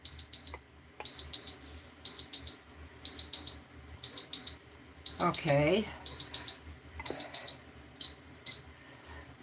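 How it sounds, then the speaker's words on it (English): A timer alarm sounds repeated bursts of high electronic beeps in a regular pattern, close and fairly loud, while a person speaks a few words over it partway through. "Didn't I start the timer?"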